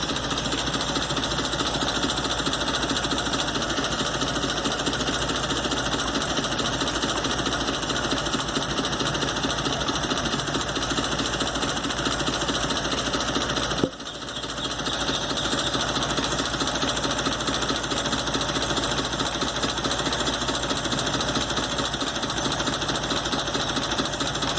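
A car engine with a carburetor runs steadily for a long stretch, its rapid rattling, knocking rhythm fairly loud and even, with one brief dip partway through.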